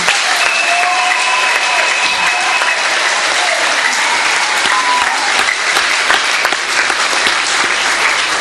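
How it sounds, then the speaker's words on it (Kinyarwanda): A church congregation applauds loudly and continuously in praise, dense steady clapping filling the hall with faint crowd voices beneath. "umuntu wese afise amaboko abiri akomera amashyi Imana"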